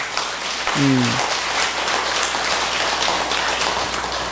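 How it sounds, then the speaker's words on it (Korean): Steady audience applause at a Buddhist dharma talk at Seogwangsa temple, a dense even wash of clapping filling the whole stretch, with a brief voice near the start. "박수 한번 쳐요, 또"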